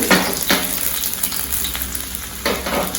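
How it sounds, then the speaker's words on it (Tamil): Garlic and mustard seeds frying in hot oil for tomato chutney, a dense steady sizzle with a few swells where a spoon stirs, close and loud. "பூண்டு நல்லா பொரியது, கொஞ்சம் பொரியுது பாருங்க."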